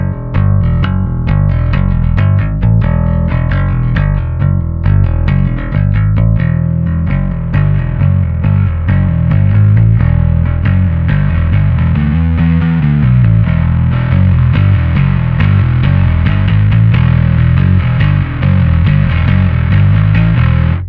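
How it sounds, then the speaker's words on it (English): A bass guitar plays through the built-in distortion of a Hartke LX-8500 amp, giving a loud, thick, gritty tone with sustained notes and a steady groove, with no voices. "the built-in distortion sounds surprisingly good"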